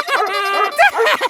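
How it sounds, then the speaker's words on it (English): A cartoon telephone barks like a dog in place of ringing, giving a few quick, bright yips and bow-wows in close succession, loud and near, with no talk over it. "So you swapped the verb ring with the verb bark?"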